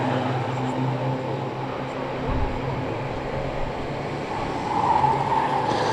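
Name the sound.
Ministox race car tyres squealing on oval track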